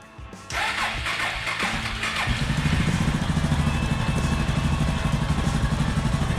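A Suzuki DR650 motorcycle engine starts up and settles into a loud, steady idle with a rapid, even thump, heard close and alone just after an oil change.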